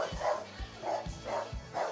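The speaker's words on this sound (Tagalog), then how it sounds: "Dami aso, ang laki." Several large dogs bark in a steady series of loud, close woofs, roughly four evenly spaced barks over two seconds.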